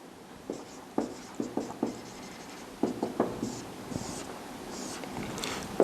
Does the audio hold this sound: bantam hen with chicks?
no